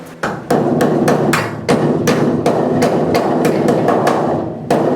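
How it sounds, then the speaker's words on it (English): Rapid metallic hammer blows on sheet metal, roll-forming a rusted 1986 Chevy C-10 cab corner, ring out one after another, loud and close, in an uneven, steady rhythm with no voices. "as I'm hammering on this, I'm using a little downward pressure"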